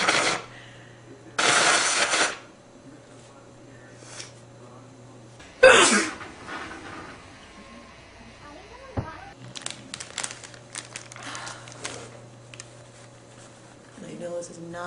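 A man sneezes repeatedly, with several loud, sharp bursts separated by pauses, amid faint handling rustles and quieter breaths, with no speech.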